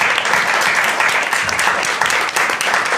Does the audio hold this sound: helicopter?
no